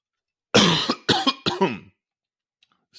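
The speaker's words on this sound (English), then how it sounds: "if we could edit that cough out, that'd be great." A single close, loud cough breaks into a few rough bursts, followed by silence.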